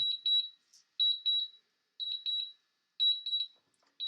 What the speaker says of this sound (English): There's the return to home beep.